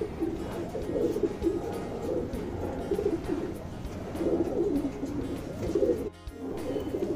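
Pigeons cooing nearby, with repeated soft, throaty coos in short rolling bursts over a low background murmur, then a brief drop to quiet near the end.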